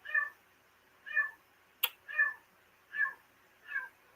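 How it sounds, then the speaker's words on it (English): A stray cat meows five times at a steady rhythm, close and fairly clear, with a brief sharp click partway through and quiet background otherwise. "I didn't even feed this cat and it still won't go away"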